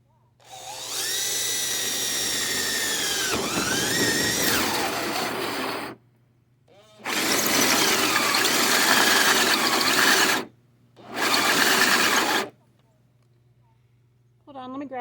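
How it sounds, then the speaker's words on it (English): A power tool cuts a hole in the bed liner of a camper rig, running close and loud in three long bursts separated by short silences, with a steady hum underneath. "It's so scary though, cutting a hole in your rig."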